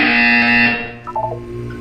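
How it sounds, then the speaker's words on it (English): A loud electronic buzzer in Portal 2 blares steadily for about three quarters of a second, then cuts off, followed by a few faint tonal blips and a low hum. "When you hear the buzzer, look up at the ceiling."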